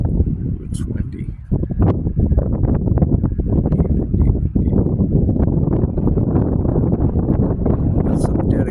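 Strong wind buffets the microphone continuously at a park beside choppy water, a loud low roar that persists throughout while someone talks over it.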